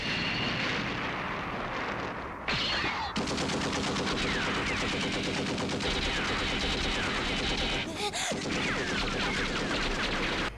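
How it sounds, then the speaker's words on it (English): Gunfire and bullet impacts from the Japanese soundtrack of the Gundam 0080 anime: loud, dense, continuous automatic fire with sharp impact cracks and a brief whooshing burst near the end. "In the Japanese track, the guns sound like guns. The bullets pierce armor, they ricochet, they have impact."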